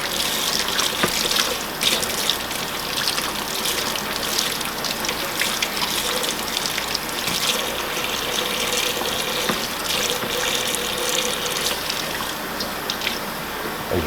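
Tap water runs steadily through a green luffa as it is rinsed and cleaned, a loud, close, continuous splashing gush with small shifts in the flow as the sponge is worked under the stream.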